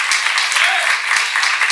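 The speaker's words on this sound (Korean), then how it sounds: "박수 좀 쳐봐, 진짜." An audience at a church seminar breaks into loud, dense applause, many hands clapping steadily and close by for a couple of seconds.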